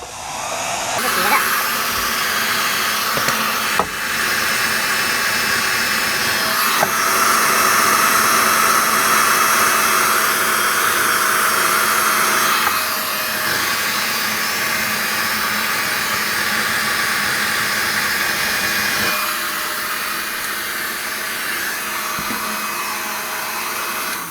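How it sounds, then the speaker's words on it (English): A heat gun blows hot air over heat shrink tubing on a soldered wire splice. It makes a loud, continuous fan whoosh with a steady whine, running for the whole stretch with only small level shifts and no talking. "And then we get our heat gun again."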